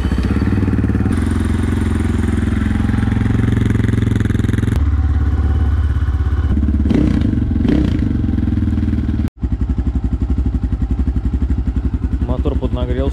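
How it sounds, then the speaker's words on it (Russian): A freshly assembled GR2 250 Optimum motorcycle engine idles after its first start, warmed up and running without choke: a loud, steady, buzzing idle with some mechanical clatter, briefly cutting out before resuming its even rhythm. "Мотор поднагрелся, подсос убрал. Сейчас без подсоса работаю."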